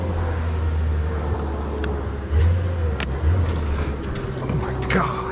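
A stubborn boom lift's wheel drive kicks in, with a steady engine drone and low mechanical whine, a heavier surge and clunk partway through, plus faint rattles.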